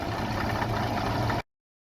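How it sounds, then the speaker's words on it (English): A Caterpillar crawler tractor engine runs continuously at a vintage harvest event, giving a steady, close, rumbling drone with an even level that cuts off abruptly near the end. "But just love the sound of that engine."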